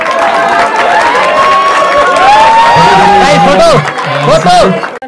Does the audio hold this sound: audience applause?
yes